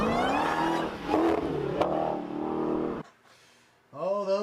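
A Dodge Hellcat engine revs hard with a rising, roaring pitch, drops out abruptly into near quiet, then surges again in a fresh acceleration at the end.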